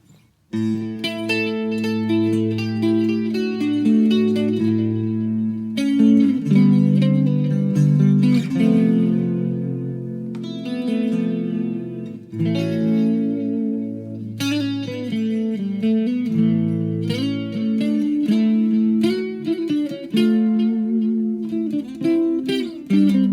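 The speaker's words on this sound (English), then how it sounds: "I will switch to the neck pickup. Maybe that needs some effects." Electric guitar on its neck pickup played through an amp with effects, sustained chords and riffs ringing out steadily and fairly loud, with a short drop partway through.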